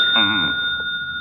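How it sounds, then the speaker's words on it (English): Telephone ringing indoors, a steady electronic ring tone heard under a brief bit of talk. "the phone's ringing"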